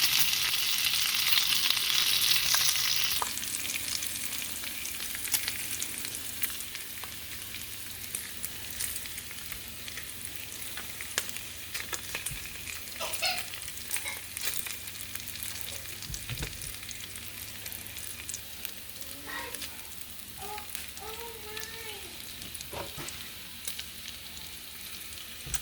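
Bacon frying in a pan on a medium-low stovetop, sizzling steadily for the whole stretch, loudest at the start and then settling into a quieter crackle with occasional scraping and stirring knocks.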